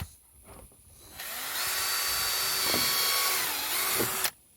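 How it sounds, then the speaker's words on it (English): A power drill whines continuously at close range for a few seconds, drilling holes in a metal pan with slight pitch shifts, then stops abruptly. "We're just going to start drilling holes in it,"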